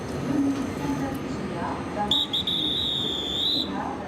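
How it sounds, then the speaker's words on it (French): A train station agent blows a departure whistle on a platform at night, a single sustained shrill blast with brief breaks, heard over station background noise and voices. "Un dernier coup de sifflet pour le départ."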